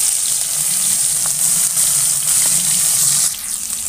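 Chopped onion frying in mustard oil in a kadai with bay leaf, dried chilli and cumin, a loud steady close sizzle with faint stirring clinks.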